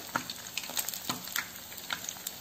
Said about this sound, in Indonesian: Kita goreng sampai matang atau sampai berwarna kecoklatan ya.